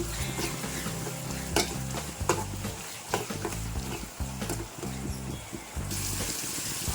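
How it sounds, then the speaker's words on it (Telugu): Onions with added salt frying in a pan while being stirred, a continuous sizzle broken by repeated spoon scrapes and knocks against the pan, close and moderately loud, with music playing underneath. "త్వరగా ఫ్రై అయిపోతుంది సాల్ట్ యాడ్ చేయడం వల్ల. ఒకసారి అయితే కలుపుకుందాం."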